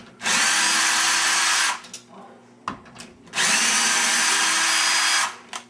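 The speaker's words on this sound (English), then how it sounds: "Now I'm going to take the drill and I'm going to take these 2 screws out" A power drill backs two screws out of a door handle backset, with two sustained whirring bursts of about one and a half seconds each and a quiet pause between them. The sound is close and loud, with faint handling noises in the gap.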